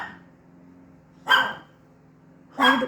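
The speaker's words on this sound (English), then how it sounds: "Now the dog's starting." A dog barks indoors during a card-making session, two sharp, loud barks about a second apart over a faint steady hum.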